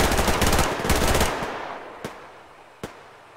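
Automatic weapon fire in the video game Survarium, a rapid burst of loud shots for over a second, followed by two single sharp shots in a fading echoing tail.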